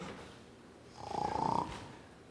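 A wolf dozing after eating gives a single rough, pulsing snore that swells and fades over about a second, close and moderately loud, with quiet breathing before and after.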